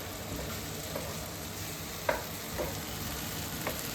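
Carrots stir-fried in a pan for Chinese fried rice, a steady sizzle of frying with a few light scrapes and clinks of the utensil against the pan, close and without talking.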